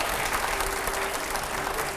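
A studio audience applauds steadily and fairly loudly, a dense, even wash of many hands clapping at once, with no break for the full stretch.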